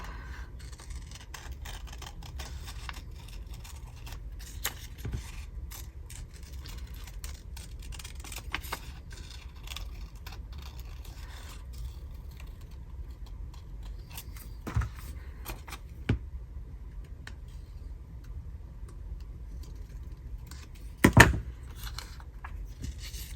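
Scissors cut paper pieces for a fresco-fragment collage, giving faint, sparse snips and small rustles over a low steady background hum, with one sharper clicky snip near the end.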